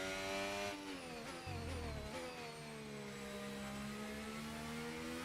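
An F1 25 racing game car engine downshifts at high revs, its whine stepping down through a few quick blips before settling into a steady, loud drone.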